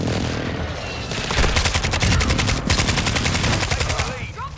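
Rapid automatic gunfire from the Modern Warfare 2 video game with a Kastov-74u rifle, loud sustained bursts of machine-gun fire rattling close by with overlapping shots and no talk.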